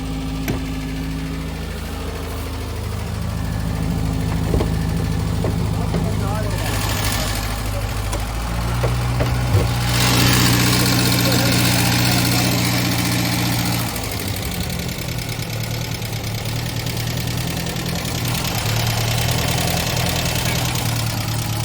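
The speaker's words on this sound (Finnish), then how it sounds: "Sitten tää nypyttää välillä, mutta ei huomaa tällainen tyhjäkäynnillä" An FSO car engine idles at a steady mid-pitched rumble, with an occasional uneven stutter, heard close up. People talk over it throughout.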